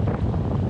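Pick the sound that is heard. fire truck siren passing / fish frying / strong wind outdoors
strong wind outdoors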